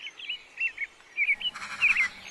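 Birds call repeatedly in short chirping phrases near a spot with nest boxes, where coypu live, with a brief rustling background joining midway.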